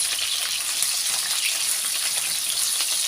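Food sizzles steadily in hot oil, a dense continuous crackling hiss heard up close with no talking.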